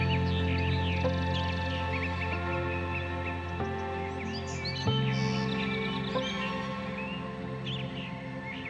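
Spring birds chirping and calling in Eastern Ontario countryside, scattered short tweets and trills over a steady low background hum, moderately faint and continuous with no talking.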